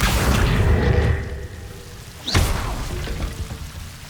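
Hogwarts Legacy Confringo blasting spell, a deep rumbling burst that fades, then a sharp whooshing crack and a second rumbling boom, loud and close with no talk.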